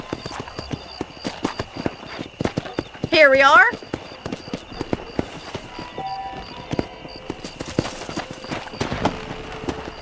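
Horse hooves clip-clop in Red Dead Redemption, a rhythmic run of close, steady footfalls through the whole stretch, with a loud whinny near the middle and characters speaking over the hoofbeats.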